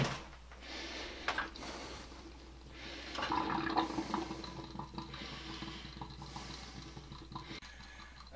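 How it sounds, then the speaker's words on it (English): Water drains back out of household plumbing lines while new bathroom vanity valves are being installed, a steady rushing flow with gurgling surges and splashes indoors, rising and falling over several seconds. "That's the sound of the water being bled back out of the lines."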